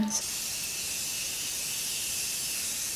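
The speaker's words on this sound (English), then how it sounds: "I'm going to set my makeup with a Continuous setting spray from Morphe." A continuous fine hiss of Morphe Continuous makeup setting spray runs steadily for about three seconds after a brief click at the start, close and even.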